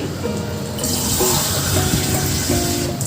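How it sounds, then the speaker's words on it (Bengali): Water streams steadily into a cooking pot for khichuri, a continuous close splashing fill that runs throughout with no talking. "তারপর পরিমাণ মতো পানি দিয়ে দিবা"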